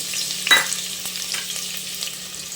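Raw onion drops into hot oil in a pan for a crab curry, with a sharp burst of sizzle at the moment it lands, then a steady frying hiss that continues alone.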